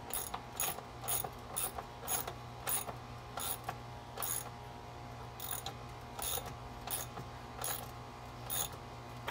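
A ratchet cranks a clamp tight on a pool filter housing, giving off a series of sharp, quiet clicking bursts in an uneven rhythm, about a dozen strokes close to the microphone with a low hum underneath and no talking.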